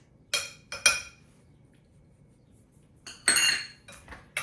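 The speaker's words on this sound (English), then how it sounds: "And I'll whisk that in so it's nice and smooth." A whisk clinks against a metal or glass bowl while sugar, vanilla, cocoa and arrowroot are stirred into a plant-based fudgesicle mixture, coming in short bright bursts of scraping and tapping separated by quiet pauses.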